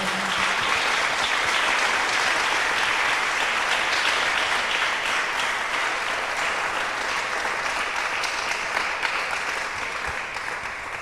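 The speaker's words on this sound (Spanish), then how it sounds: "Denle un aplauso al Señor, hermano." Sustained, dense applause from a large church congregation, loud and even throughout, tapering slightly at the very end.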